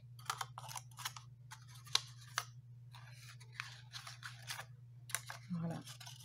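Paper being firmly creased into folds, a series of short crisp rustles and scrapes of close, quiet handling over a low steady hum.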